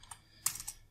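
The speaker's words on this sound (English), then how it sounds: "Let me just type that back in." A few quick keystrokes on a computer keyboard, faint clicks in a short cluster over low background hum.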